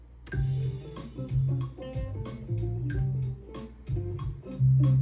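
A programmed beat with regular crash hits and punchy drums over a repeating bass line, steady and loud throughout, with no voices.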